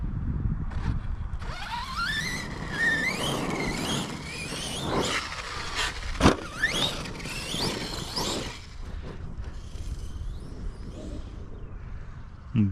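A scooter engine revs at half throttle during a variator test, its pitch climbing in repeated rising sweeps over a steady, close, loud mechanical drone, with a sharp transient near the middle and no talking.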